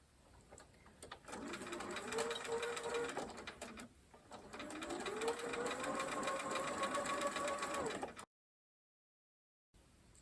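A sewing machine stitches fabric for a quilted temperature block in two close, steady runs of rapid whirring with a short pause between, then cuts off into silence.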